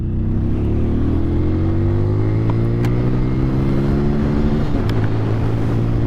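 A 2020 TVS Apache RTR 200 4V motorcycle on the move, its engine a loud, close, steady drone with pitch sweeping up and down through gear and throttle changes, heard alone.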